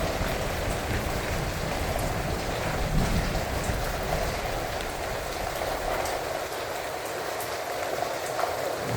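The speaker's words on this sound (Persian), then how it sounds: "یه بارون خوشگلم گرفت." Steady rain falls outdoors, a dense even patter on surfaces with a low rumble underneath, continuous and fairly close, with no one speaking.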